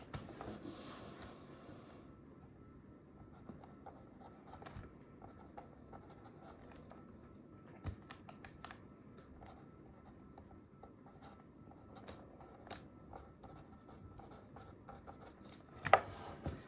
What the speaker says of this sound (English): You can write anything such as like work, school, family, friends, finances, anything like that.